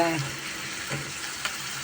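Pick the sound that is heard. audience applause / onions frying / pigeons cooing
onions frying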